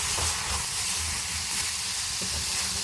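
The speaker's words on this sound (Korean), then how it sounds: "간장 불맛을 위해 구석에 진간장을 4스푼 정도 넣고 간장이 사라질 때쯤 볶아줍니다." Roughly four spoonfuls of Korean soy sauce hitting the hot edge of a pan of stir-fried cabbage and thinly sliced pork belly: a loud, continuous broadband hiss of steam and sizzle, steady throughout with no voices.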